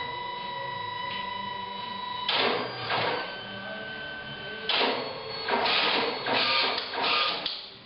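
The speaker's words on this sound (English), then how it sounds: "The printer will automatically cut the strips and drop them into the tray." A photo booth kiosk printer hums steadily, then bursts of mechanical whirring and cutting as photo strips are printed, cut and dropped into the tray, several loud pulses close by.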